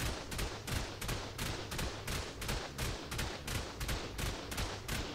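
Steady bursts of normal-bullet gunfire from a video game base raid, with rapid repeated shots throughout, loud and continuous with no talking.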